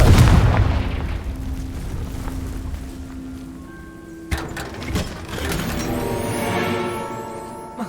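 A Confringo fire spell in Hogwarts Legacy bursts in a deep, booming explosion up front, followed by rumbling game effects, tonal chimes, and a few further thuds and crackles.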